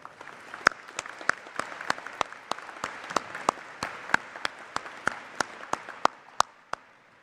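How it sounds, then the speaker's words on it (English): Sparse, distinct hand claps ring out at a university winter commencement for a student musician, evenly spaced and sharp against a quiet hall rather than a full ovation. "How about a round of applause?"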